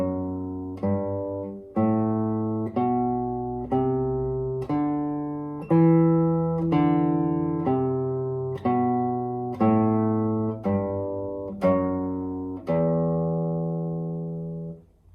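An E natural minor scale of separate sustained notes climbs and then descends, each struck cleanly about once per second and left to ring, with no voice.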